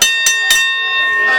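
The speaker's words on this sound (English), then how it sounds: "There's the bell, and the match is underway, and the Prophet of Pain getting in Ryan Wil" A wrestling ring bell rings loud and close at the start of a match, struck three quick times, each strike ringing on with a bright metallic tone that fades slowly.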